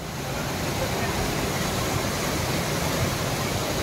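Steady, dense rushing of a mountain waterfall fills the whole moment, loud and close, with no pauses.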